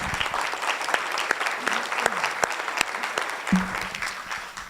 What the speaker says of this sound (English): let's give a round of applause for Paul Shoemaker and all he did.